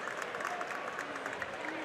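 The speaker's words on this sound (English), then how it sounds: "Some claps from the West Virginia bench as well." Scattered claps from the West Virginia bench during a Big 12 men's basketball game against Cincinnati, faint under steady arena crowd noise.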